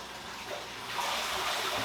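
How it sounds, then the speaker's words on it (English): Water rushes and gushes in a fish aquarium as the filters switch back on, the flow growing louder and fuller partway through. "I kick my filters back on."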